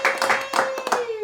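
A few people clapping, about seven distinct claps in a loose irregular rhythm, close and fairly loud, with a faint tone running beneath.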